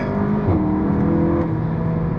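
Seat Leon Cupra 280 engine pulling hard under acceleration on a road, a steady loud drone with a pitch shift as a gear change comes partway through, heard from inside the car.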